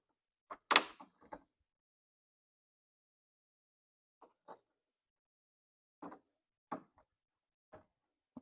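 Pliers clank and knock in a few short, sharp bursts while working the upper radiator hose loose on an Infiniti G35. Brief metallic taps are separated by pauses, close and fairly quiet, with no talking.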